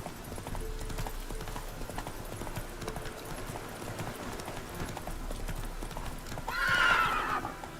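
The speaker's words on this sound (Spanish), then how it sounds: "Avanza, caballo." A horse gallops in The Witcher 3 video game with rapid, rhythmic hoofbeats throughout. A whinny rises near the end over a game soundscape, and there is no talking.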